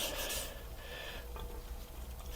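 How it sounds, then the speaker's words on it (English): Hand sanding of metal, likely aluminum or steel, during a fabrication build: a steady abrasive rubbing rasp that runs continuously with slight strokes, close and moderately loud, no voices. "just sand it away"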